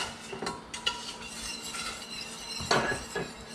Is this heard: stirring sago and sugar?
yes